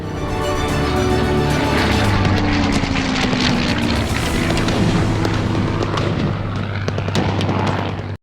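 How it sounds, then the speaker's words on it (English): World War II era rigs set off explosions, heard as loud sustained booming and rumbling with droning, engine-like tones, dense and continuous for several seconds before cutting off abruptly. "right after you watch these explosions"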